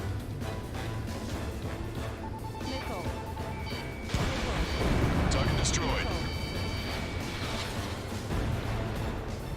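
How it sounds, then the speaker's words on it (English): A missile launching and explosions in the combat flight game Ace Combat 7, a dense roar and crashing blasts building midway over a constant jet engine drone and radio chatter. "Strider 1, missile launched."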